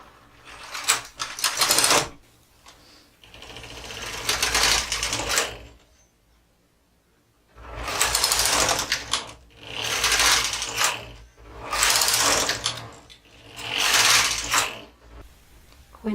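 A knitting machine works up an i-cord in a series of loud, rattling mechanical passes, each a few seconds long with clicking, whirring carriage movement, separated by brief pauses and one longer quiet gap.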